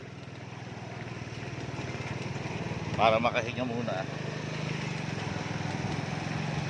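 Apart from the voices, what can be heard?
motorcycle engine running in floodwater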